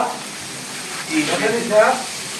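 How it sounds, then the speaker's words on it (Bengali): Beef pieces dropped into a hot pot of cooked-down spices for a Bengali beef curry, sizzling and hissing in a brief, moderately loud burst that swells twice, with voices talking over the frying. "মাংসগুলো দিয়ে দিচ্ছি তারপরে কষাই নেব"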